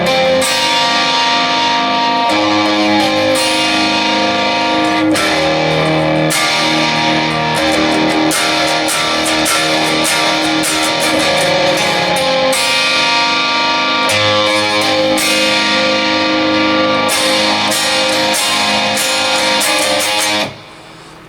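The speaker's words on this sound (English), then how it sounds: "Now it's a little more distorted here, but not full." Electric guitar with light, partial overdrive strums sustained chords, loud and close, with regular chord changes and brief breaks between strums, fading out at the end.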